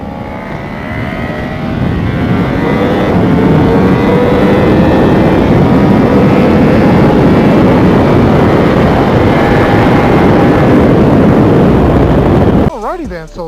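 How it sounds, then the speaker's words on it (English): Sport motorcycles race on a track with the rider's V4 Speciale in front and other bikes behind: a loud, continuous engine roar with rising and falling revs and rushing wind throughout, ending with a short shift. "I hear some bikers behind me"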